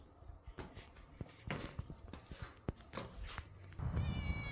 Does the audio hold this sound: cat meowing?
yes